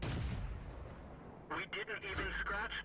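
A tank gun fires in the World of Tanks video game, a heavy boom fading into rumble, followed by someone talking over the game's low background noise.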